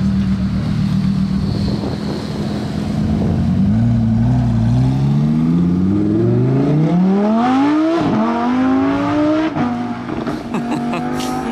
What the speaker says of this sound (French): Donc il y a les 4 voitures là qui vont passer.